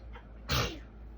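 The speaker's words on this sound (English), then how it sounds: "Baby girl sneeze." A single short, sharp human sneeze, close and fairly loud against quiet room tone.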